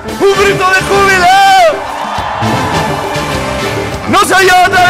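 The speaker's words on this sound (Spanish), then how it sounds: "un grito de júbilo" A worship congregation bursts into loud, sustained shouts and whoops of joy, a dense crowd roar with rising voices near the start and again at the end, filling the room at close range.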